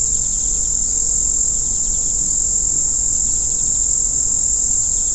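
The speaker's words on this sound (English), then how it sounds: "to the fleeing echo of the ground crickets" Dense, steady high-pitched trilling of ground crickets in a summer meadow fills the whole stretch without pause, a continuous shimmering insect chorus with no voices.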